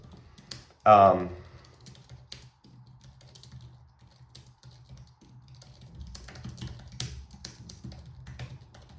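Soft keystrokes patter at an uneven pace on a computer keyboard, with a brief louder burst early on and quieter stretches before the typing picks up again near the end.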